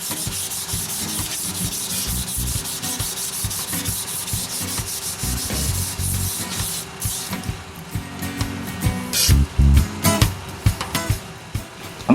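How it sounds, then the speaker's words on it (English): Hand sanding of a threaded box shaped from epoxy putty, worked with 220 then 320 grit paper, giving a steady close rasping rub that turns more uneven and scratchy near the end. "After that, I sand it with grits 220 and 320."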